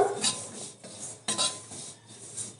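White sesame seeds dry-roasting in a pan are stirred with a utensil, giving soft, repeated scraping and rattling strokes at a close, quiet level.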